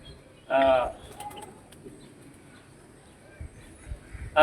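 A pet pigeon kept at a home in Patenga, Chattogram, gives two short, close cooing bursts, one near the start and one at the end, with quiet room noise between.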